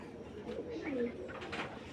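Pigeon coos from a male Beji line bird, soft repeated low warbling over a steady background murmur, moderately close.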